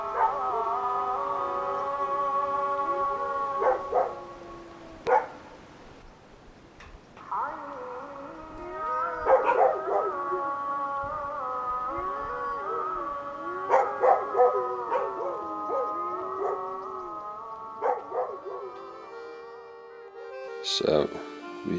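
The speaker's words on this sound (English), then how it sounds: "All the animals would howl when the local mosque gave a call to prayer" Several dogs in winter Bosnia howl in long, wavering overlapping tones that rise and fall across the whole stretch, carrying steadily from a moderate distance with brief sharper yips breaking through.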